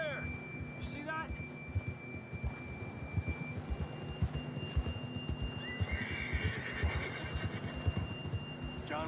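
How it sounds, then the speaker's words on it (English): In-game horse from Red Dead Redemption II whinnying near the start, with clip-clop hooves and a steady tonal hum running through the background. "John was riding that horse when we left Blackwater."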